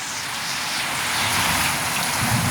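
Heavy rain pouring down during a flood in the Philippines, a dense, steady roar of drops hitting surfaces and water, close and unbroken, growing slightly louder toward the end, with no voices.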